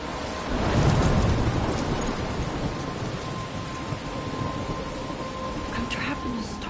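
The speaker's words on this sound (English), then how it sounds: "I'm trapped in a storm?" A thunderstorm in the video game Life is Strange, with heavy rain hissing steadily throughout and a deep roll of thunder swelling near the start before settling back under the downpour.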